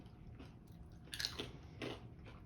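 Faint crisp crunches of someone biting into a crunchy falafel-flavored snack from Israel, two or three quick bites close to the microphone against a soft background hiss, with no talking.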